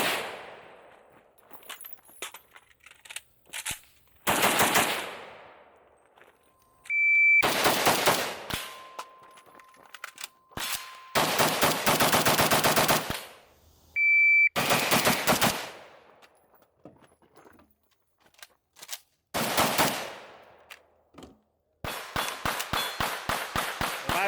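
An IWI Galil Ace rifle in 5.45 with a 13-inch barrel, fired suppressed at a range. Loud, sharp reports come in strings of single shots and rapid bursts, separated by short quiet gaps.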